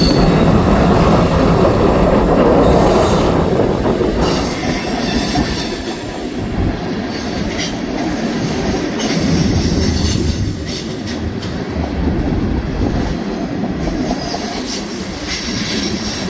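A Canadian National freight train led by an ET44C4, an ES44C4 and an SD70M-2 rolls past loudly at close range on a snowy winter evening in northern Illinois, with continuous wheel roar and high, sustained flange squeals throughout.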